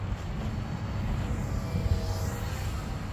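A Cheerson BEE Egg toy quadcopter drone flies outdoors, its motors giving a steady, continuous buzzing whir mixed with broadband wind-like noise that holds a constant level throughout.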